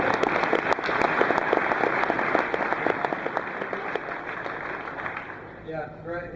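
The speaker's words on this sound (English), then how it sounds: "please give a warm round of applause for Mike Bender and" Audience applause for Mike Bender and Scott Shepard, a loud dense crowd clapping that carries steadily for several seconds before tapering off as a voice begins speaking at the end.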